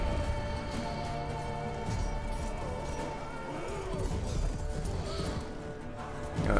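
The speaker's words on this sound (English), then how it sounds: "whose horse is having a really bad day." Horse hooves clopping in The Witcher 3, a steady rhythmic trot under a busy game soundscape, with a brief whinny-like cry near the middle.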